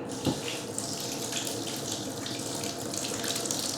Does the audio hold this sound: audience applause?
no